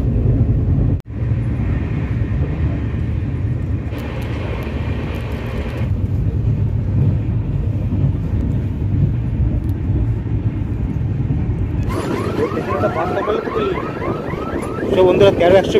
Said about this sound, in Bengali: 1342 টাউন তিস্তা তোরসা এক্সপ্রেস এখন এখান থেকে পাস করছে কাটোয়া জংশন থেকে